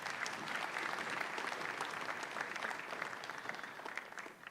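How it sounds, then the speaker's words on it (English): A conference audience at the Third National Wage Bill Conference applauds in a steady, dense wash of many hands, sustained and fairly even for the whole stretch with no voices standing out. "Demands or requires a better round of applause"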